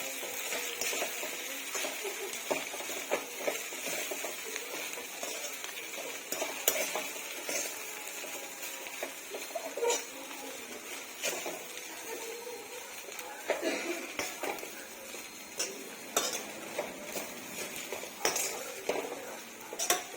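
A spoon stirs a pan of batata poha after fresh lemon juice is squeezed over it, giving repeated scraping and clinking against the metal over a light sizzle, a steady close rhythm throughout.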